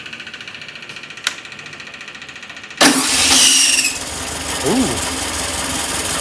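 A 1965 Volkswagen Beetle engine cranks and catches after a brief quiet stretch, then settles into a steady, fairly loud idle close by, with a short exclamation from a person over it.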